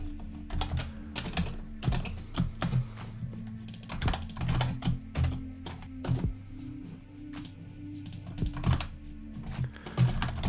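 Computer keyboard typing while writing Flutter code for a card swiper screen: quick, irregular key clicks in steady bursts with occasional heavier thumps, close and clear, no talking.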